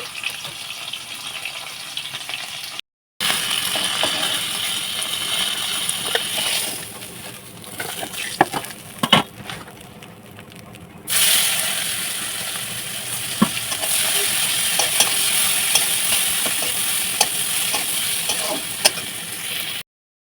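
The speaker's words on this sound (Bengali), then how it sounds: "এদিকে তেলের মধ্যে কিন্তু পেঁয়াজটা দিয়ে দিয়েছি পেঁয়াজটা লাল লাল করে ভাজা হয়ে গেছে" Chopped onions frying in hot oil until reddish, giving a steady hissing sizzle that drops out briefly and goes quieter for a few seconds midway before returning at full strength.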